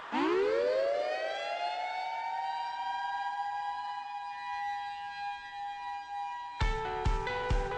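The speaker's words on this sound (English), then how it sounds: "The siren has sounded" A loud siren winds up from a low pitch and holds a steady wail, then gives way to a few short, abrupt bursts of sound at the end.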